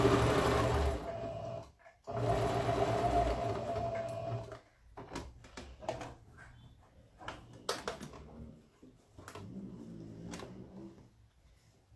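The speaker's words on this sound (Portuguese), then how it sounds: "Agora, vamos passar a costura aqui de novo. Eu já vou aproveitar nessa e fixar o forro na parte de fora." Lining is stitched onto a shoulder bag by a sewing machine, which runs in loud, fast bursts for the first few seconds before falling to softer clicks and handling knocks, close up.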